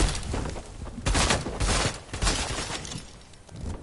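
Loud bursts of gunfire from a Fortnite match, several sharp broadband cracks spaced unevenly across the stretch, with no talk over them.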